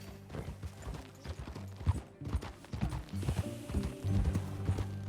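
Horse hooves clip-clop in a steady rhythm, close by, mixed with creaks and rattling of tack, in the video game Red Dead Redemption 2.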